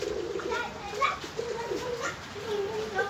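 Pigeons cooing in a loft, low repeated throaty coos up close, with children's voices and chatter mixed in over the birds.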